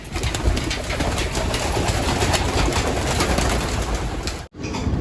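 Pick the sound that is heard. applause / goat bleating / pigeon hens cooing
pigeon hens cooing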